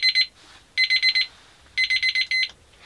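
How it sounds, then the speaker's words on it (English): A kitchen timer in an Airstream RV sounds in loud rapid bursts of high electronic beeps, three groups of four or five pulses separated by short silences. "As you can see, our 5 minute timer just went off"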